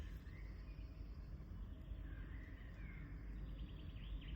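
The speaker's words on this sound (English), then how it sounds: "If I would ever stop talking, you could probably hear the birds." Birds sing in woodland, faint high chirps and short whistled calls scattered over a steady low rumble of outdoor background noise, with no talking.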